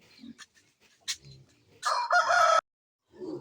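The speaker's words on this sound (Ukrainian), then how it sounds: "Рембо хоче набити бентамчика" A bantam rooster crows loudly and close, a single drawn-out call, with brief quieter bird and yard noises before it and faint talk around it.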